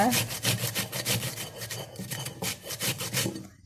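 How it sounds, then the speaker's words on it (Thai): Daikon radish grated by hand against a grater, a rapid run of rough scraping strokes in an uneven rhythm, close and fairly loud, with no talking. "เราก็ขูดไป ขูดให้มันพอได้มาหนึ่งหน้านะคะ"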